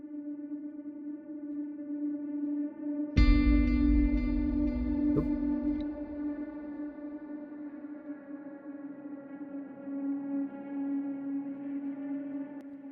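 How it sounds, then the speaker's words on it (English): Sustained synth pads, drenched in reverb and holding steady chords that follow the root notes of a guitar part in an epic trailer-style cue, with a brighter swelling layer entering partway through and ringing on alone. "let's hear the pads now just on their own"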